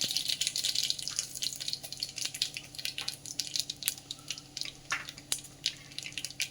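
Mustard seeds crackle and pop in hot oil at the start of a rice rava upma, with sharp, irregular spits and snaps over a steady low hiss, close and fairly quiet.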